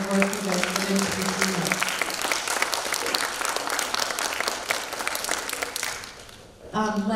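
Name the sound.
6th graders applauding themselves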